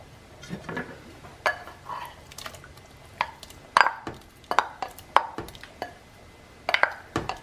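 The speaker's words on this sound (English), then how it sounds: "now to this I'm going to add 12 ounces of raw medium-sized shrimp" Raw medium-sized shrimp, washed and deveined, are added to a chowder pot, giving a run of sharp clinks, wet slaps and soft taps of spoon and pot, some sounding close, with quiet pauses in between.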